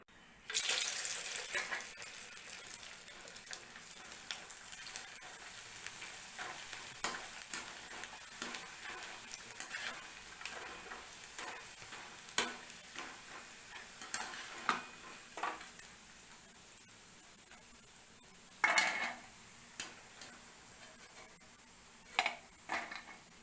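Sun-dried vathal crisps frying in hot oil, a faint steady sizzle and crackle throughout with occasional louder pops and clinks, no voices.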